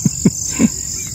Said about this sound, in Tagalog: Dito hindi, puro mga ingay na iba-ibang boses ng mga ibon.